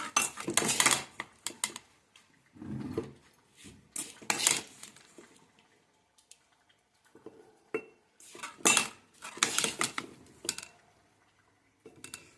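Ginger pickle spooned into a container, a run of clinking metal spoon scrapes and taps against the vessel in irregular bursts with short pauses, fairly close and moderately loud, no talking.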